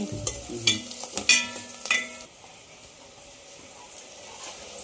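Ginger garlic paste frying with onions and green chillies in a pot for a Sunday pulao curry: a few sharp stirring clatters early on, then a steady, soft sizzle running on its own.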